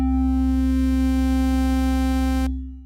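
A synthesizer lead patch with two oscillators sounds one sustained, bright harmonic tone, loud and alone, with no steep glide evident before it cuts off near the end.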